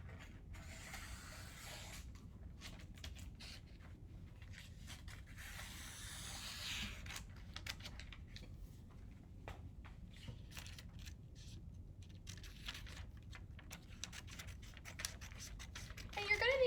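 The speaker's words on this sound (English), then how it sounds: "And then I'm going to cut out my illustration around the rectangle" Scissors cut a paper illustration out around a rectangle: faint, quiet snipping and scratchy crunching strokes that repeat steadily through a long stretch, close to the listener and alone.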